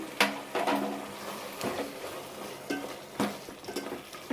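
Tomato rice masala with garam masala and coriander powder fries in a pan, soft sizzling under a series of scraping spoon strokes as it is stirred, quiet and close.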